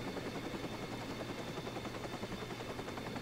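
Helicopter circling overhead in the video game Watch Dogs, a steady droning rotor chop holding at an even level throughout with no other sounds.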